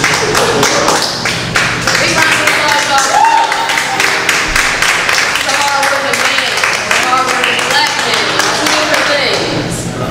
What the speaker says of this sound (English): Big round of applause, y'all.